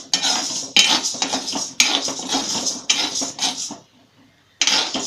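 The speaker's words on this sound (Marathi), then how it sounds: "साबुदाणे भाजून घेऊया" Metal utensil scraping and clattering in a pan while sago pearls (sabudana) are dry-roasted for chakli bhajani, in rapid repeated strokes with one short pause near the end.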